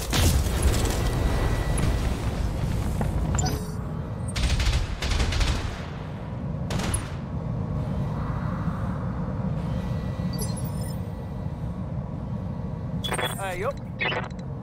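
Mech weapons in the Battletech video game fire in loud heavy volleys with crackling bursts and mechanical clanks, spoken voices popping in between shots.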